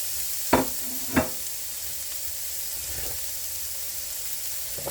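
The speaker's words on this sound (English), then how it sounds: "I am going to add some onions from our garden." Onions from a home garden frying with taco meat in a pan, a soft continuous sizzle with two sharp spatula clacks early on and a quieter scrape later.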